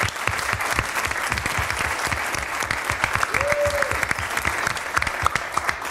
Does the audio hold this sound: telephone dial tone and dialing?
no